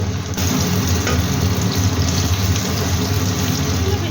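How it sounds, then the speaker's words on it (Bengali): Paneer pieces fry in hot oil until lightly golden, a steady, dense sizzle that runs continuously and fairly loud from start to finish. "পনিরের টুকরোগুলোকে আমি হালকা সোনালি করে ভেজে নেব"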